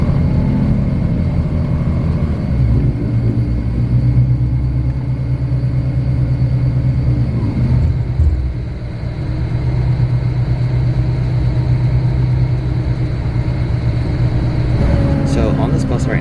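Steady low engine rumble from a Yolo Bus route 230 commuter bus running between Sacramento and Davis, heard from inside the cabin. It holds continuous and even throughout, with a brief dip partway and some light rattles near the end.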